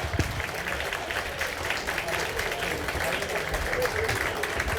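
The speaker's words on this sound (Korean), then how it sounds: "안녕합창봉사단에게 다시 한번 큰 박수 부탁드리겠습니다" Audience applause for a volunteer choir at a book launch event, dense sustained clapping filling the whole stretch at an even, moderate level without pauses.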